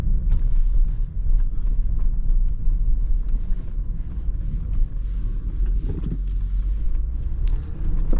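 A 2016 Range Rover Sport HSE with a supercharged V6, heard from inside while it rolls at about 20 mph over a badly potholed road, giving a steady low rumble with occasional creaks and knocks from the suspension.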